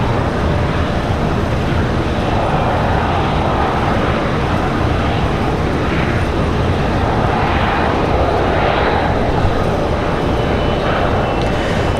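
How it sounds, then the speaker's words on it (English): A TAP Air Portugal Airbus A321neo XLR, arriving from Lisbon at Washington Dulles, makes a loud, continuous broadband rush of jet noise with a gently wavering tone, heard alone with no voices. "TAP coming in from Lisbon. It's going to be another XLR, the Neo XLR, the A321."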